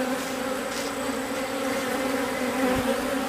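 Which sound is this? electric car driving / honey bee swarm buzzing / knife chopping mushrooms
honey bee swarm buzzing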